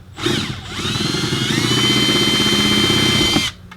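A power drill bores a hole in a 2004 Volvo XC70 for a tow hitch receiver, whining up, holding a loud, steady pitch under light pressure for about three seconds, then stopping abruptly.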